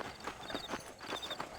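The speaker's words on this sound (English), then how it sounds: "That varmint just stole my horse." A horse gallops away in Red Dead Redemption with quick, rhythmic hoof clip-clops, quiet and moderately distant, lasting a brief moment with no talk.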